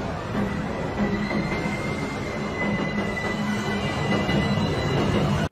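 A subway train rolls through a video game station with a loud, steady rumble and a sustained high metallic wheel squeal that runs throughout.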